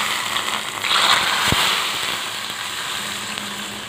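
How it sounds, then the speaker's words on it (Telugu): Hot tempering with fried cashews and almonds is poured into a dish, giving a brief sharp crackle and then a steady hissing sizzle that slowly settles. "అందులో తాలింపుని ఇలా తీసుకెళ్ళి అందులో వేసేయండి"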